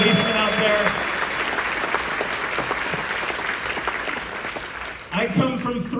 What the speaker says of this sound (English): Another round of applause for all of our firefighters and our policemen out there.